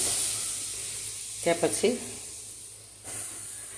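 Mustard seeds, cumin, fenugreek and turmeric frying in hot oil give a soft, steady sizzle and hiss throughout, with a brief burst of louder crackling spatter midway and another rise near the end.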